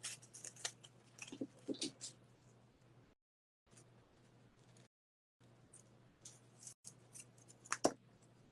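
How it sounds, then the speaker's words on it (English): Cutters snip through thick wire in a craft project, a few sharp close clicks and crunches spaced apart with quiet gaps between them. "this one does have a big fat wire in it. It's hard to cut."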